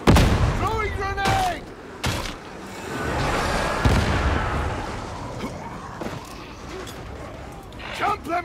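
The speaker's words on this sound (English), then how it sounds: "Throwing grenade!" A grenade explodes in Warhammer 40,000: Darktide with a broad, heavy blast that rumbles on for several seconds, surrounded by sharp gunfire bursts and shouted voices during frantic combat.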